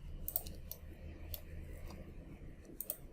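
Mouse clicks while selecting edges in Blender during modeling: sparse, sharp, close clicks at irregular intervals over a faint steady hum, with no speech.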